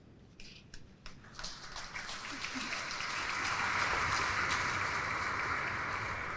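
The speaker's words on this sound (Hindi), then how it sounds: "ये तालियों की गड़गड़ाहट देश की तरफ से उनके शौर्य को नमन है." An award ceremony crowd breaks into applause, starting as scattered claps and swelling into a loud, sustained ovation that fills the hall.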